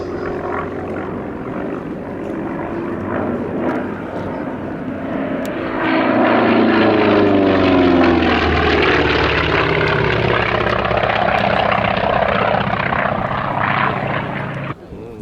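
A Grumman FM-2 Wildcat fighter's radial engine and propeller roar steadily and loudly, swelling stronger about a third of the way through as it passes near, with a continuous throbbing drone throughout.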